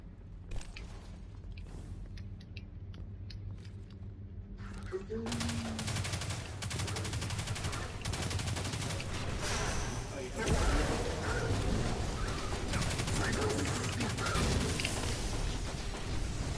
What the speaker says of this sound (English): stop shooting missiles at me